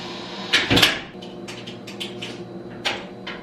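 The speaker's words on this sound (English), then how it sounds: "I'm gonna just come back inside and close this door." An indoor door swings shut with a solid thump, followed by a few lighter knocks and clicks close by, with no voices.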